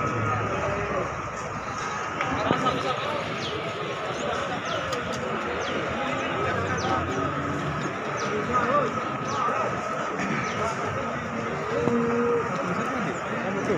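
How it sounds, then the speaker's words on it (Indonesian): Jumbo Limousin cattle at the Jatirogo cattle market in East Java, lowing steadily amid the busy crowd noise and voices of the market, with moos rising repeatedly over a constant loud background. "Ini sapi-sapinya, kualitas sapi-sapi jumbo, sapi lemon di pasar Jatirogo"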